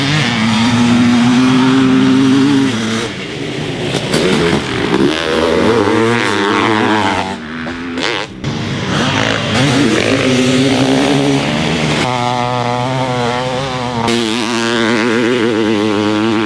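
Two-stroke 500cc motocross bikes, a Kawasaki KX500 and a Honda CR500, scream around a dirt track, engines revving up and down through gear changes, loud and close with brief drops as riders back off the throttle.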